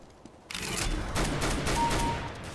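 Gunfire in Counter-Strike: Global Offensive starts abruptly after a quiet moment and becomes a dense, loud burst of shots that continues to the end.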